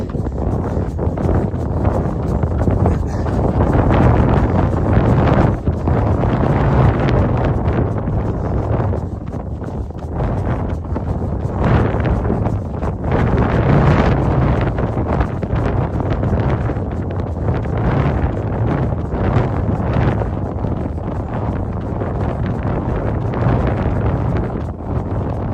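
Strong gusting wind buffets the microphone during a morning trail run, a loud continuous roar with rumbling surges throughout.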